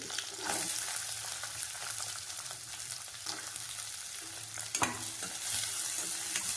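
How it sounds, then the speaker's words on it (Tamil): Green chillies and garlic sizzle steadily in a pan, with occasional spoon stirs and scrapes over a constant frying hiss, close and moderately loud, no voices. "இப்போ எல்லாத்தையும் சேர்த்து கொஞ்சம் வதக்கிக்கணும்"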